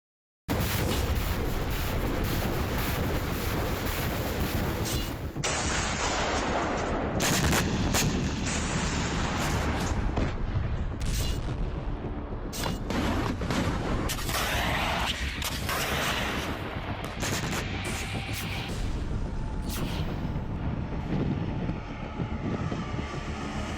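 Sharp bursts of gunfire and heavy explosions from the Russia-Ukraine war crack repeatedly over a constant roar, with dense, irregular blasts throughout.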